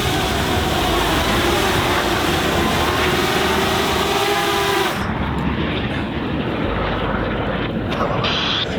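A helicopter and a plane fly overhead, making a loud, continuous roar and rotor whir that fills the whole stretch and changes tone midway.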